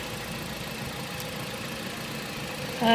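A Dodge Avenger engine idles steadily in cold weather, a low continuous rumble with even vibration, close and unchanging throughout.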